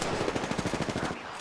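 Rapid automatic gunfire from a heavy-recoil weapon in a video game, a dense, fast stream of loud close shots lasting just over a second before cutting off.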